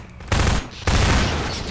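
Gunfire in Half-Life 2: two loud, close bursts of rapid shots, the second one longer, with a short gap between them and no talk.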